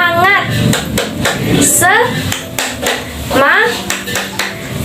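Children in a classroom clap out a rhythmic spirit-clap routine, with sharp clap bursts in a patterned beat mixed with chanting voices and a teacher leading them.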